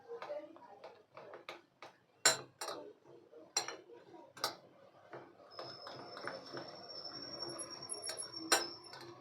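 Paratha batter for Mughlai paratha is mixed in a bowl, with a prepared filling stirred in. Irregular clinks and taps of a utensil against the bowl, with soft mixing scrapes and a few sharper knocks, come close and moderately loud, with no talking.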